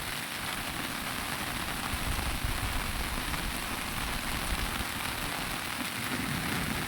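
Heavy rain pours steadily onto a rooftop, a dense, continuous hiss and patter filling the whole stretch at an even, fairly loud level, with no voices present.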